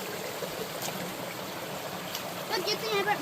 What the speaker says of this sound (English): Nice little creek, huh?